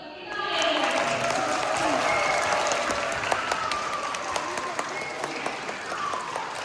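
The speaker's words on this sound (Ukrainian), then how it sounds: "Цього року найкрасивішу кішку знову обирали глядачі оплесками" A crowd applauds at a cat beauty contest, voting by clapping for the most beautiful cat; steady sustained clapping with voices and tonal sounds mixed over it.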